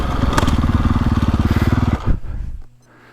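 A KTM 450 Factory Edition dirt bike engine revs hard with a loud, close, rapid pulsing roar for about two seconds, then cuts off abruptly with a thump and drops to a low idle.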